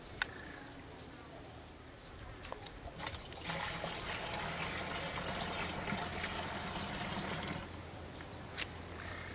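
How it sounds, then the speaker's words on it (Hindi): Water is poured into a pesticide sprayer tank, a steady rushing trickle that grows louder and fuller partway through, then continues with no talking. "इसके बाद इसमें अपन पानी डाल देंगे।"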